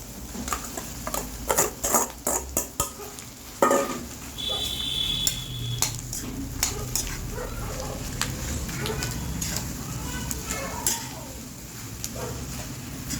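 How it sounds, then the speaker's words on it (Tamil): Metal utensil scraping and clinking against a pan while stirring potato filling for masala dosa in oil, in short bursts, then a steady sizzle of frying, with someone talking in Tamil and a dog barking briefly. "மஞ்சள் ஸ்மெல் போகிற வரைக்கும் நம்ம கொஞ்சம் அப்படி வதக்கி விடலாம் எண்ணெயிலே"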